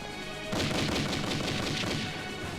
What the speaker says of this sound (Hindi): जवान, मशीन गन को मैन करो।